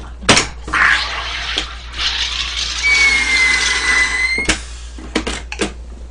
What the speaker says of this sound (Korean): 오늘의 음료를 위해서 탄산수를 제조를